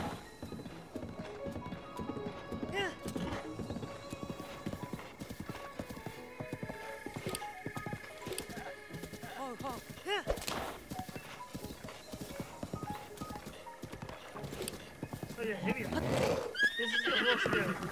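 Rhythmic hooves clip-clop steadily while a horse neighs and whinnies several times in the video game Zelda: Breath of the Wild, with a voice talking over the sounds.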